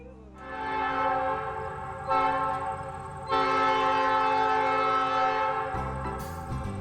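A restored 1950s-style streamlined Pullman passenger train on the Great Northern Railroad sounds a loud, sustained horn in several long blasts that step up in intensity, over a low rolling rumble, then cuts off near the end.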